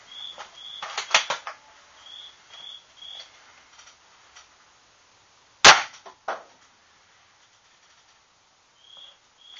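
A toy marshmallow crossbow fires once with a single sharp, loud snap in an otherwise quiet room, surrounded by a few light clicks and faint handling ticks from the mechanism.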